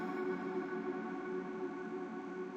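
A chord soaked in heavy reverb sustains as a smooth, steady wash with a long tail. It is faint and even throughout and heard alone.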